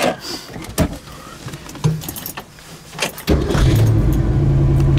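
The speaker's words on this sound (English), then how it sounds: "Car really starts nice." A car engine cranks and catches after some keys jangle and clicks, then settles into a steady, loud idle that fills the rest of the clip.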